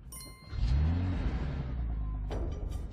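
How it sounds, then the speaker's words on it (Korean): Car engine cranks and catches, then settles into a steady, loud revving hum lasting a few seconds, heard close with no talking. "목소리로 시동을 거는 자동차를 타고 위기를 모면합니다"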